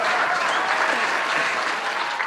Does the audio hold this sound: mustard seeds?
no